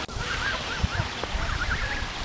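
A goose honks in a short run of faint, wavering calls over steady outdoor wind and background noise.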